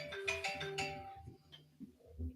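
A mobile phone ringtone goes off in a live show setting, a bright melodic electronic tune sounding briefly and fading, with muffled voices underneath.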